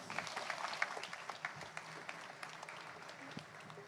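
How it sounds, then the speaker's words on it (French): Audience applause at a start-up pitch competition in Paris, a steady, fairly quiet patter of many hands clapping from a room, with scattered sharper claps standing out. "on les applaudit"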